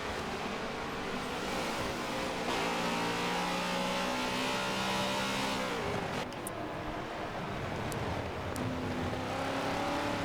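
GT3 race car engines in a racing video game, a continuous high revving drone with rising and falling pitch as gears change, loud and steady throughout with no talk.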